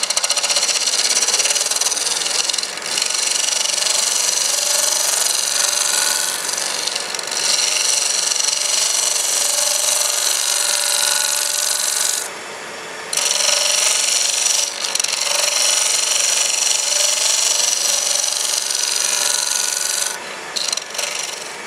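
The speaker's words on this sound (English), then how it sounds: "This is a 3/4 inch or 1 inch wide round nose scraper made by anybody but Craftsman." Steady hand scraping of metal with a 3/4 to 1 inch wide round nose scraper, a continuous rasping, filing-like rub that runs nearly unbroken, with one brief pause partway through.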